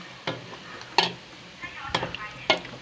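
Oil sizzles steadily in a pan as chicken strips fry, with a few sharp clinks and scrapes of a utensil stirring at intervals.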